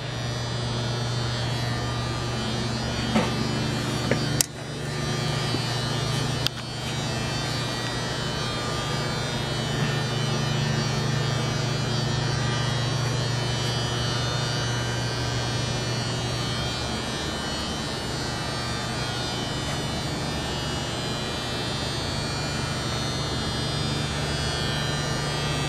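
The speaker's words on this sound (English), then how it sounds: "The hydraulic unit." The hydraulic unit of a Chevalier FSG-3A818 surface grinder runs with a steady, close electric hum and drone throughout, joined by a couple of brief clicks early on, with no speech.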